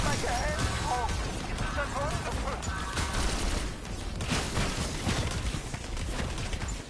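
The Death Machine gun roaring in Black Ops zombies, a continuous rattling stream of rapid fire mixed with chaotic game effects, with players talking over it.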